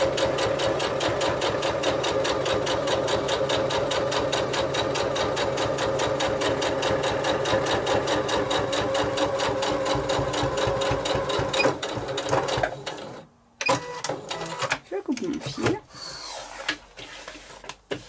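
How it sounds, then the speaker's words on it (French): A sewing machine runs steadily for about twelve seconds, topstitching slowly along the edge of fabric for a beach pouch with a fast, even needle rhythm, then stops, followed by a few soft handling clicks and rustles. "comme je fais une surpiqûre qui est visible, je prends bien mon temps pour aller bien droit sur le bord du tissu"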